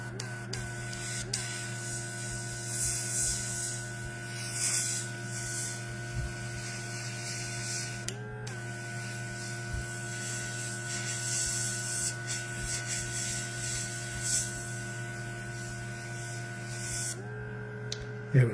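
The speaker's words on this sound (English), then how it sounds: "Let's try to try that with the air from the airbrush." Steady hiss of an airbrush blowing air to dry paint on a HeroQuest Warlock miniature, continuous and close, with a few brief dropouts and a constant mechanical hum underneath.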